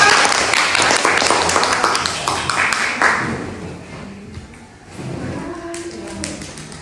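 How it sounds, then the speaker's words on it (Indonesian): A class clapping for the first group about to present, loud close handclaps that fade after about four seconds, then a voice speaks over a few lingering claps. "beri tepuk tangan untuk grup 1 yang pertama"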